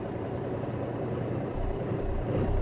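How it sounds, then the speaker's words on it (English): Kenworth K100e truck engine in American Truck Simulator, a steady low diesel drone heard from the cab that grows slightly louder toward the end, with no talk over it. "This engine gets a little loud."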